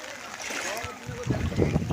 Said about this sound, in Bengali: দেখুন সব খেপলা ফেলে মাছ ধরছে